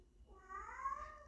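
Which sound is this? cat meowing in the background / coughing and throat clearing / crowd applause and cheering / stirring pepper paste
cat meowing in the background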